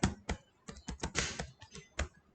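Quick bursts of clicky keystrokes on a computer keyboard, irregular and close, with short pauses between clusters of taps and no voices.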